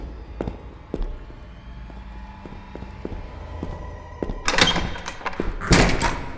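A door opening in the horror game Metel Horror Escape, heard as a burst of creaking, thudding movement near the end, preceded by quieter knocks and footstep-like taps over a low ambient hum.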